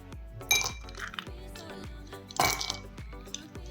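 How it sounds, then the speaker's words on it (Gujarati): Three or four ice cubes clink into a drinking glass one after another, bright knocking taps close up with a couple of louder clatters, no talking. "ગ્લાસમાં આપણે 3 થી 4 આઈસ ક્યુબ નાખશું"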